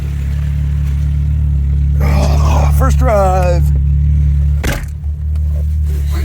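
Toyota Tercel 4WD wagon with a swapped 4A-C engine running on choke, a loud steady low rumble that holds a constant note without revving high, with voices talking over it partway through.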